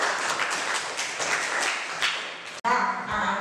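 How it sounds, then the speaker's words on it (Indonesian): Classroom applause for a student from the class during a lesson, dense broadband clapping for about two and a half seconds, then a brief cut followed by a teacher's voice. "tepuk tangan untuk Mbak Aksa."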